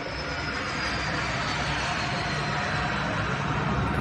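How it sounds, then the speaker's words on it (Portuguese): An airplane passes overhead, a steady broadband jet roar that holds at moderate loudness with no voices. "Passa avião a cada 3 minutos, complicado."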